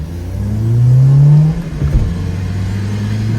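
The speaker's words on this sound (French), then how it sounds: "On va faire un drag race." Peugeot 206 accelerating hard in a drag race, its engine note climbing steadily as it revs up, then dropping after a gear change and settling into a steady loud rumble; no talk.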